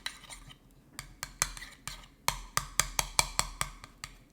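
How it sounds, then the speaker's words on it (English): A utensil stirs garlic, mayonnaise and salt in a container, giving a quick series of sharp, close clinks and taps against the sides that grow more regular and rhythmic toward the end. "So we have our garlic, our mayonnaise, and our salt. I'm just going to give this a mix."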